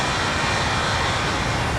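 Airbus A320ceo jet engines from outside the aircraft in a flight simulator game, a constant broad roar with steady loudness throughout.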